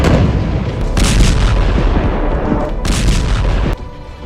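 Israeli military strikes on Syrian military bases, heard as loud, continuous rumbling booms and heavy blasts with two sharp explosive bursts, all close and dense with no talk.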